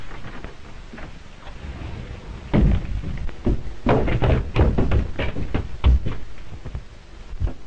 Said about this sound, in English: I know the secret of this door.